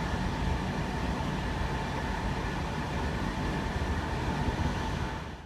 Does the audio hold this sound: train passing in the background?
yes